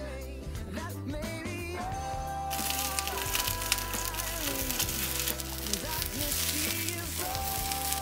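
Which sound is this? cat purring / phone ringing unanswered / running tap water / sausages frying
sausages frying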